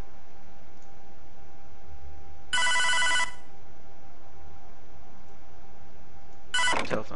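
A telephone rings twice in the Hotline Miami video game, two short bright electronic ring bursts several seconds apart over a quiet, low game ambience.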